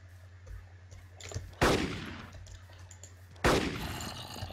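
Two sharp, loud rifle shots from a DMR in the Minecraft-based game Crafting Dead, spaced about two seconds apart, each with a decaying tail over a steady low background hum.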